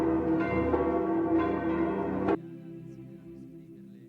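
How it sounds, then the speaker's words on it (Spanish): Rich, sustained church bells at the Vatican tolling together for the death of the Pope, with a layered metallic ring, then abruptly cutting off, leaving a faint fading hum. "Son las campanas, las 88 campanadas que se escucharon ayer"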